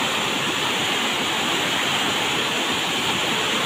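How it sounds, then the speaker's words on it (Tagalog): A swollen rural river rushes in a strong, dangerous current, a dense, unbroken roar of water close by with no pauses or voices. "Grabe na talaga yung ilog guys."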